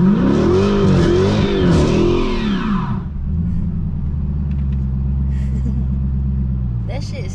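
A widebody Dodge Challenger's engine roars loud and close as the gas is pressed, revving hard for about three seconds before dropping back to a steady, deep idle rumble.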